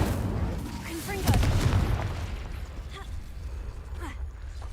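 Confringo explosive spell cast in Hogwarts Legacy, a single booming blast with crackling debris, followed by quieter ambient rumble while a voice speaks softly.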